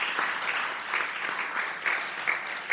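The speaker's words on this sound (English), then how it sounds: "if you can please give a round of applause to Sheikh Rashid" An audience applauds an artist at an art event, steady close clapping throughout with a few louder swells, no talking.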